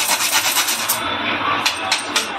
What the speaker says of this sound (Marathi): आपण हे जायफळ किसून घेऊया थोडंसं